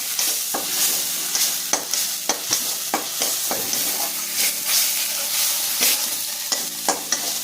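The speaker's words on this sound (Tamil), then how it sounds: "மசாலா அரைச்சி வச்சது இதை கொஞ்சம் எண்ணெயில் மணக்கணும்." Ground masala paste frying in oil for a dried fish dish, a loud close sizzle broken by frequent spatula scrapes and stirring knocks, with no voices.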